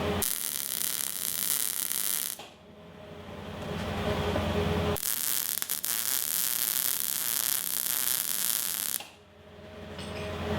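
Steel 45-degree pieces for a Jeep rear storage shelf are welded in place, with two long, loud, crackling hissing bursts of arc noise separated by a quieter stretch and a brief dip near the end.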